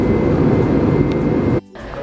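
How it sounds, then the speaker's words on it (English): A loud, steady mechanical roar of a parked airliner being refueled before a flight to Taiwan, heavy in low rumble, cuts out briefly near the end and then resumes. "Aircraft is being refueled."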